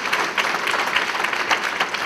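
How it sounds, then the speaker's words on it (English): An audience applauds for Nadia, a dense, steady patter of many hands clapping together at moderate loudness, with no voices over it. "please join me in clapping for Nadia"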